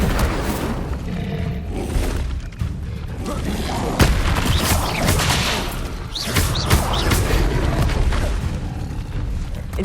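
Fire spells are cast again and again in Hogwarts Legacy, a continuous barrage of loud booming bursts and roaring flame whooshes that overlap with crackling impacts and never let up through the stretch.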